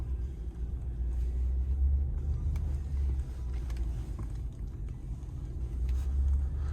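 A 2017 Ram 2500 Power Wagon Crew Cab 4x4 drives along, heard from inside as a low, steady engine and road rumble with faint light rattles and no talk.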